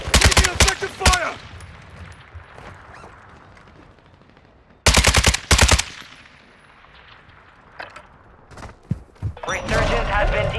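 Gunfire in the video game Call of Duty: Modern Warfare II, loud sharp automatic bursts near the start and again midway, with fainter scattered shots and explosive thumps between, and rising game noise toward the end.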